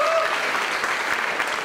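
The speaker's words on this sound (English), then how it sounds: "So a big round of applause for my fabulous faculty." Audience applause at a dance school showcase for the faculty, a dense, steady wash of clapping hands that fills the whole short stretch at even loudness.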